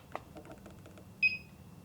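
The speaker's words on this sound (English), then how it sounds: "I think I'm getting a beep from over there" A single short electronic beep from a WiFi garage door controller pairing with a device, faint and slightly distant after a few soft clicks in a quiet room.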